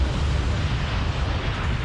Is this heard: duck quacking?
no